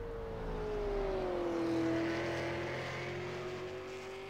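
A super late model race car passes on the track at Five Flags Speedway during qualifying, a steady loud engine roar whose pitch slowly drops as it goes by, with no talk over it.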